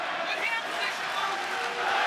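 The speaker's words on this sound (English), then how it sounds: "Let's go Weidman chant ringing through the crowd." Dense arena crowd noise at a UFC 199 bout between Chris Weidman and Luke Rockhold, a steady roar with voices merging into a rhythmic chant of support, loud and continuous throughout.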